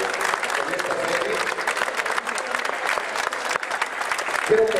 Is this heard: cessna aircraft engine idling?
no